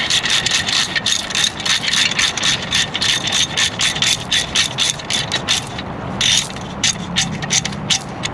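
A ratchet tightens Vance & Hines slip-on exhaust bolts on a Harley-Davidson Street 750, fast repeated clicking strokes in bursts, close and loud, with a brief pause before the cranking resumes.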